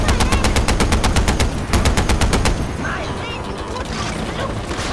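Automatic gunfire in the video game Far Cry 4, rapid loud bursts of shots in two volleys followed by quieter scattered rumble and distant reports, with a voice talking over it.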